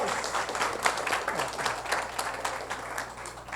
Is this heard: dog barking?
no